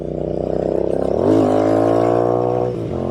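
A Royal Enfield Interceptor 650 twin fitted with AEW slip-on pipes fires up close by, its idle lumpy and pulsing before a quick rev lifts the pitch, then it settles back to a steady, throaty run.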